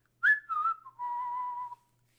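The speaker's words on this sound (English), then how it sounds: "the whistle was necessary because somehow I'm sure you pictured that entire image" A single person whistles a short bright tune: two quick rising notes, then one long steady held tone that stops cleanly, alone with no talk in a quiet room.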